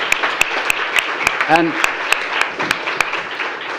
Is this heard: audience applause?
yes